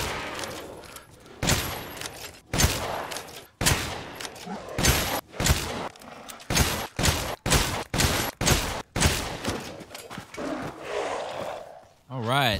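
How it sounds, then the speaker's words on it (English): Video game W870 TAC shotgun in Resident Evil Village fired repeatedly at a large lichen, roughly fifteen loud, booming blasts at an irregular pace, with creature grunts and a voice speaking between shots. "So it took 14 shots from the W870 TAC to take down a large lichen with no upgrades or parts."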